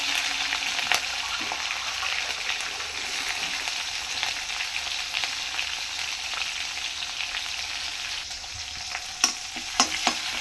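Fennel seeds, curry leaves and finely chopped green chillies crackle and sizzle in hot oil for an aloo gravy, a steady close hiss with scattered sharp pops, no voices.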